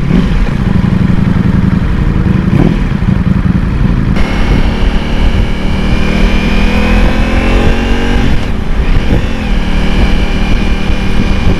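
A Ducati touring motorcycle on a test ride, its loud engine droning and revving continuously close by, with pitch rising and falling through gear changes.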